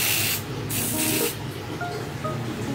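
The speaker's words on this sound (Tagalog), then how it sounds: "mag-spray tayo ng ayan, ng pang-spray sa lamok" Aerosol mosquito insecticide sprayed indoors at home in several loud, close hissing bursts separated by short pauses.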